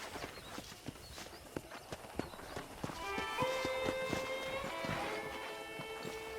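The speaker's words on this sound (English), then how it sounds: "let's see if you can still ride a horse" Steady hoof clip-clop of a horse at a walk in Red Dead Redemption, close and even, with sustained musical tones rising in behind it partway through.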